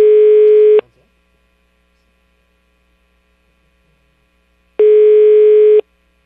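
Telephone line tone while a call is being placed: two long, steady electronic tones, each just under a second, separated by about four seconds of silence, loud and clear with no voices.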